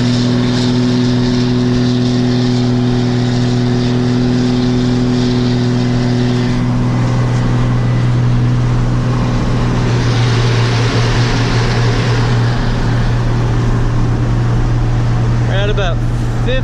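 A Cummins diesel truck towing a heavy trailer accelerates while merging onto a highway, a loud continuous engine drone rising in pitch through the gears, close and steady throughout, with brief talk near the end.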